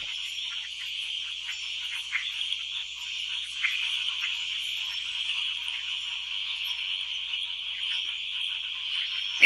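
A dense chorus of frogs calls continuously, a high, shimmering trill with a few louder peeps standing out, steady throughout with no voices.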